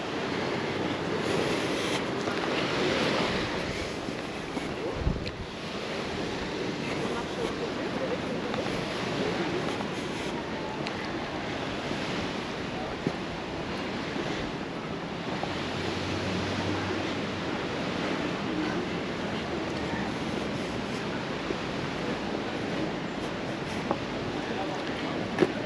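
Surf washing onto the beach at Palmanova, Mallorca, a steady broadband wash of breaking waves with some wind, continuous and moderately distant, with faint voices of people in the background.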